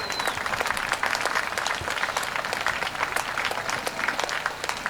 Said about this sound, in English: let's give all the drivers a special round of applause for us